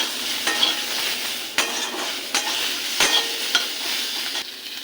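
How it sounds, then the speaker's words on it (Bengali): Chopped tomato sizzles and fries in a pan for a rui posto recipe, with a spatula scraping and stirring in several distinct strokes over a steady hiss, close and fairly loud. "এটাকে একটু নেড়ে চেড়ে নেবো।"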